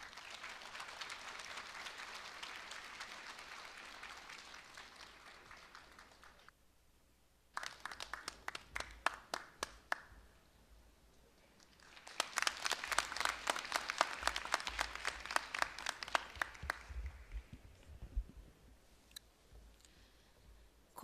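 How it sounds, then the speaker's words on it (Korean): A crowd applauds at a Korea University degree ceremony, a long steady wash of clapping that fades, then returns in two further rounds of dense, moderately distant applause. "여러분 큰 박수로 맞이해 주시기 바랍니다."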